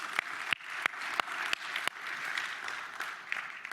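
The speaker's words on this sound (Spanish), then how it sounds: "Denle un fuerte aplauso al Señor" A small church congregation claps in a steady rhythm, the sharp individual claps landing in a regular beat with a softer wash of applause underneath.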